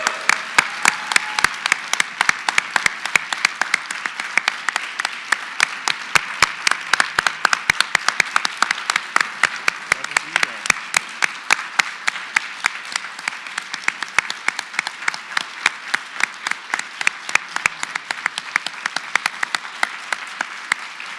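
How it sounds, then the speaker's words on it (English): A second, louder round of audience applause for awardees at an alumni awards event, dense crowd clapping with crisp, rhythmic individual claps repeating steadily for about twenty seconds without letup. "could we give our awardees another round of applause?"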